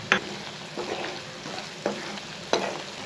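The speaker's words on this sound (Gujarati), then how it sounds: "હવે આને સખત ધીમેથી હલાવવાનું અને એક જ ડાયરેક્શનમાં" Spices being stirred slowly in one direction in a pan: turmeric, chili powder, coriander-cumin powder, garam masala and salt, for a Gujarati dahi tikhari dish. A few soft scraping clinks over a low sizzle, with no talking.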